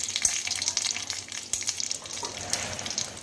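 Curry leaves with mustard seeds crackle and sputter in hot oil, a soft, close sizzle broken by sharp popping bursts at irregular intervals.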